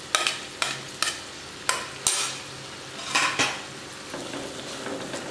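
A spoon clinks and scrapes sharply against a pan at a steady rhythm while green chili, ginger, garlic and curry leaves fry for a Kerala-style egg roast, with a soft sizzle underneath and no talking.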